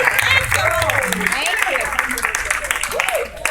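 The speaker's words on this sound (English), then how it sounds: "Clap your hands and give God some praise if you believe it." Church congregation clapping hands in praise during a sermon, a fairly loud spread of applause running under a speaker's voice and murmuring crowd throughout.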